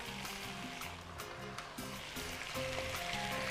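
Potatoes sautéing in a pan with a spoon of butter and a spoon of oil, making a steady close sizzle with soft bubbling, along with some stirring clatter.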